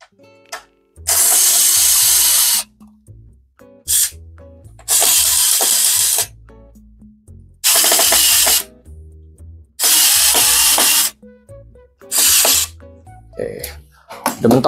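Power screwdriver tightening screws while assembling a Ryzen 5 7500F and RTX 4060 desktop PC, heard as five loud whirring bursts of a couple of seconds each, close up, with quieter handling noises and a voice between bursts.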